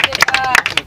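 Audience clapping at a Spanish-language freestyle rap battle, a loud close burst of uneven claps and crowd noise with voices shouting over it.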